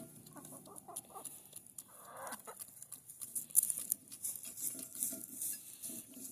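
Backyard chickens cluck softly while foraging outdoors, a scattered run of short, quiet clucks and scratching sounds with no talking.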